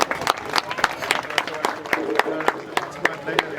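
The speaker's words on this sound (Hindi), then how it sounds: "जोरदार तालियों से स्वागत।" A crowd in Lamba village applauds at a welcome, mixing sharp individual claps into a loud, uneven patter, with voices heard over it.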